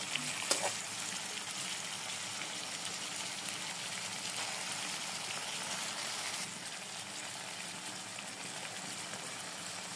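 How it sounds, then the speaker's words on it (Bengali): Mixed vegetables and chopped tomato frying in a pan make a soft, even hiss with a single faint utensil tap at the start, quiet and steady throughout, with no voices. "টমেটোটা দিয়ে এবার সব ভালো মতো একসাথে আবার ভেজে নেব"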